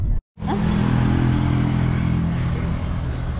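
A big motorcycle's engine rumbles loud and close in a steady, sustained roar after a brief cut, holding near constant as it passes.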